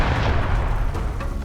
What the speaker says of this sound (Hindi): तोपों की गड़गड़ाहट